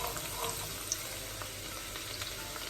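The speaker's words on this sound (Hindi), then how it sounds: "और इसको अब मैं फ्राई करूंगी।" Ginger and garlic frying in a pan, a steady soft sizzle with faint crackles and small pops running throughout, close and fairly quiet with no voices.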